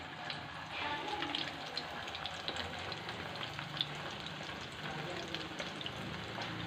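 Rice and potato kebabs frying in a pan, a steady crackling sizzle with scattered pops and spits throughout, close and continuous.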